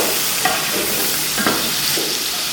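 Whole spices (cinnamon, bay leaf, cardamom, cloves and cumin) fry in hot oil for Sindhi biryani, giving a loud close steady sizzle with a couple of faint stirring knocks and no talking.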